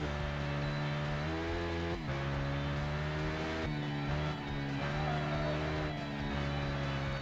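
A KTM 1190 RC8R superbike engine in the racing game Ride, revving steadily with loud sustained harmonics, pitch rising and dipping across several gear changes, close and continuous throughout.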